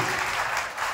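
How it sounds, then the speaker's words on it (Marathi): Audience applause at a Diwali special-issue launch ceremony in Dhule, loud, dense and close, a brief burst of many hands clapping together. "जोरदार टाळ्या वाजवूया"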